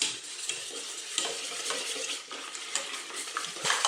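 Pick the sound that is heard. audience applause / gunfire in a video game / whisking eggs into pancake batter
whisking eggs into pancake batter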